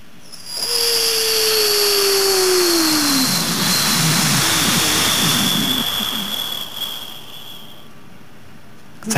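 A human voice imitates an aeroplane, with a high whistling jet whine over a falling tone that turns into a broad rushing roar, loud and close, then slowly fading out with no talking.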